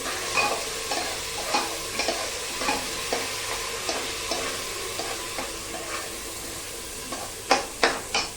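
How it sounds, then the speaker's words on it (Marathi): A spoon scrapes and stirs green mung dal sizzling in a pan, with soft rhythmic strokes over a steady frying hiss and a few sharper clicks near the end. "जी डाळ आहे मुगाची ती हिरवी जास्त चांगली लागते छान याच्यामध्ये मी हलवून घेते"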